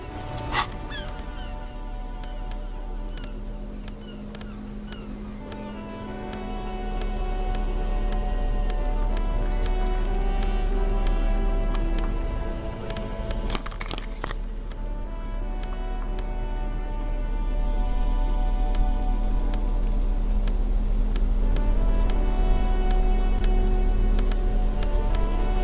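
Continuous rain in the video game Disco Elysium, an even hissing wash layered beneath a soft sustained musical drone, growing slightly fuller partway through, with one brief sharp burst near the middle.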